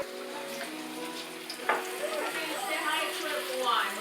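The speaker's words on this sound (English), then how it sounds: "so I show you how we fry" Pork pieces frying in 350-degree oil for sweet and sour pork, a steady close crackling sizzle with a brief clatter partway through, continuing throughout.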